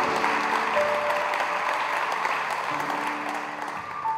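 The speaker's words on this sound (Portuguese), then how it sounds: "aplauda Jesus pela vida dele." A church congregation applauds during a celebration service, sustained, even clapping filling the hall at moderate loudness while a faint tone and voices hover underneath.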